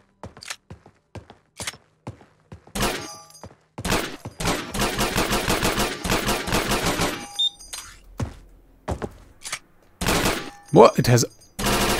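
Full-auto fire from the Alyx gun in the Receiver 1 video game, modded from its Garry's Mod world model: scattered single shots, then a dense sustained burst of rapid gunfire around the middle, more shots near the end, with a brief spoken word.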